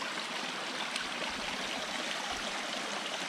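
Water pours out from under a giant rock into a rocky stream bed beside a slide, a steady, close rush and gurgle with no talk.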